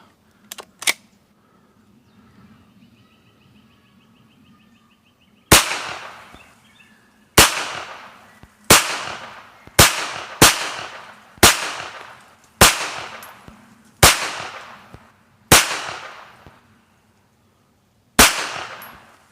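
A Hi-Point 9mm carbine fitted with a red dot sight fires about ten single shots at an outdoor range, each a sharp loud crack followed by a short decaying echo, with irregular pauses of a second or more between them.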